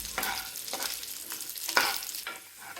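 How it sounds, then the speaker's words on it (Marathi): Dry fruits and homemade vermicelli roasting in ghee in a pan for kheer, a close sizzle with several stirring scrapes, no talk. "तर आपले ड्रायफ्रूट छान रोस्ट झालेत आणि आता आपण यामध्ये शेवया घालूया"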